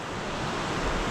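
Rushing whitewater of a river rapid on the Spanish River's west branch, a loud, steady broadband roar of churning water, close and continuous with no voices.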